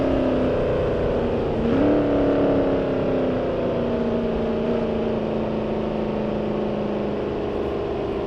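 Race cars in the BeamNG driving game roar loudly with a sustained engine tone that drops in pitch as they brake hard, a dense and continuous sound with no voices.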